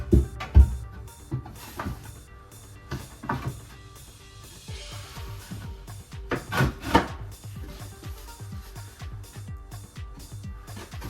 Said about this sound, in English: let's go ahead and give it a final sand